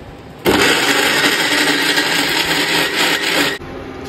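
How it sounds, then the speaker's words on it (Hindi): A large mixer grinder jar whirs loudly while grinding tomatoes, starting abruptly and holding a steady, close motor roar for about three seconds before it cuts off. "चलो इधर टमाटर वमाटर पीस लेते हैं,"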